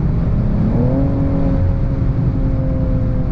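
BMW M240i (2022) engine on the autobahn holding a loud, steady high-speed drone, with engine tones climbing briefly then sustaining under continuous wind and road roar; no talk.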